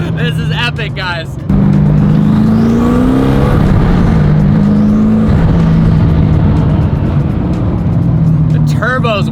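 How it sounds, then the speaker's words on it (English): A Hennessey Venom GT runs close by with a steady, loud engine drone and a faint rising and falling turbo whistle on top, while someone talks over it near the start and end. "The turbo's whistling behind me."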